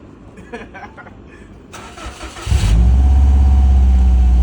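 A 2023 BMW M135i engine cranks, catches and rises into a loud, deep rumble through a large exhaust, then settles into a steady roar at close range after some brief talk.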